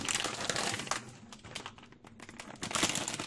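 A paper or plastic bag of semolina flour being opened for baking: loud, close crinkling and rustling in bursts, pausing briefly midway before another burst of crumpling.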